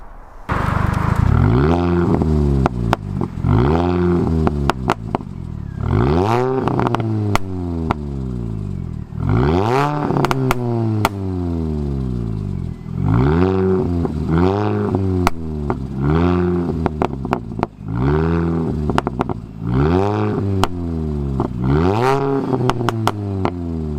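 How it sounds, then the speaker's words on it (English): A small 1.6-litre four-cylinder Mini Cooper S R53 race car engine revved again and again, each throaty rise and fall followed by crackling pops and bangs from the exhaust; no talking. "the exhaust system gives quite a lot of pops and bangs, and it's quite throaty for a little 1600 4-cylinder"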